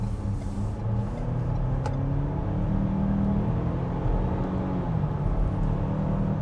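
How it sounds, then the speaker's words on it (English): A 2024 Ford Ranger XLT SuperCrew 4X4 pickup gathers speed on the road, a steady low engine drone and road rumble heard from inside the cab, rising gradually without breaks. "that's getting us up to speed pretty quickly there"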